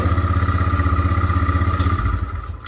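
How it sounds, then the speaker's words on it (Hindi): A TVS motorcycle engine runs close by with a steady, rhythmic low knocking from the crank, then the beat loosens and shifts near the end. "ये जो साउंड आ रहा है ना इसमें, ये क्रेन का साउंड है।"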